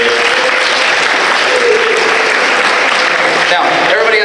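Dense, steady applause from an audience at a high school after-prom event, loud and continuous throughout with no pauses, filling the room.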